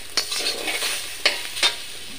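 Bottle gourd peel frying in a pan, a soft continuous sizzle broken by three sharp scrapes and taps of a spatula stirring it, close and fairly quiet.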